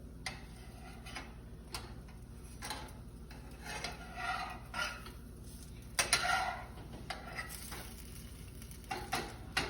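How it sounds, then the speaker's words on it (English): A pancake frying in a pan gives a faint, steady sizzle, with scattered light clicks and scrapes of a utensil against the pan, briefly louder near the end, quiet and close, no speech. "So you can see my pancake is getting brown color. And I will flip both of the sides because I want both sides to be properly cooked."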